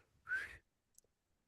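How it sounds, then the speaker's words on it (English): A short whistle comes from within a played artwork: a single faint, thin tone lasting under half a second, followed by near silence with a couple of tiny clicks. "I'm hearing the whistle."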